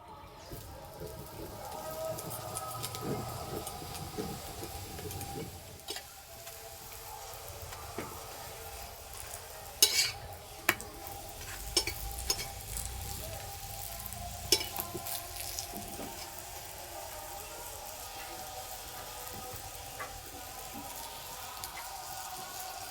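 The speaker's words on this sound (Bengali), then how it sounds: "ঠিক এইরকম করে ভেজে নিতে হবে।" Cauliflower paratha frying in a pan gives a steady low sizzle, with occasional sharp crackles and the clink of a spatula, under someone speaking in Bengali.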